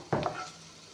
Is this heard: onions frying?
yes